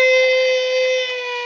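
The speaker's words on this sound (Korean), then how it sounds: "시끄러 사이렌이야." Siren in Final Fantasy XIV, a sustained loud tonal wail with layered harmonics holding steady for under two seconds, alone without talk.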